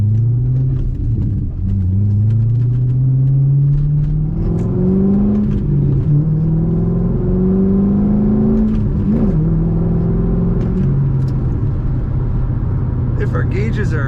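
Engine of a 2007 Chevrolet Corvette Z51 coupe with a six-speed manual, rumbling close by as it pulls through rising and falling revs in several smooth sweeps, with a voice talking over it.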